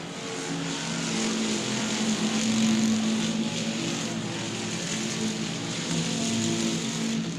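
Street stock race cars lapping at South Texas Speedway in July 2017, a loud continuous engine roar that swells and recedes as the pack passes, with no talk.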